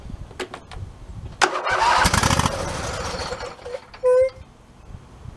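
A YTH 2454 riding lawn mower engine with a dirty carburetor and the choke pulled out cranks in short bursts, sputters briefly toward catching, then stops, followed by a short metallic whine; nearby and fairly loud with no talking.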